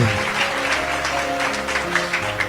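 A church congregation applauds in a brief patter of claps, mixed with a low sustained tone from an instrument or voices underneath.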